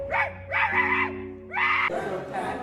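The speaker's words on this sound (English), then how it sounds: "Here's what people thought it might have been Juju barking" A dog barks in a played-back recording, a few loud yelping, screechy barks in quick succession, sounding close and somewhat distorted, with no talk over them.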